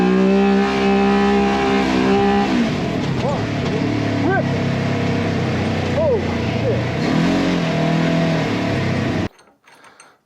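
A Polaris RZR Trail S 1000 side-by-side, fitted with new rear control arms and Shock Therapy springs, revs and pulls while driving, its engine rising and falling in pitch near and loud, then cutting out abruptly at the end.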